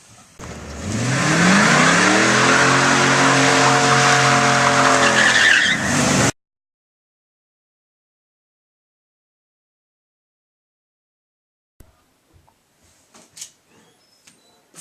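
A car revs and skids with a long, loud tire squeal lasting several seconds, then cuts off into silence broken only by a few faint clicks.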